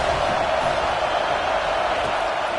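A BYU football stadium crowd roars and cheers in a continuous, dense wash of noise that holds steady throughout without any break.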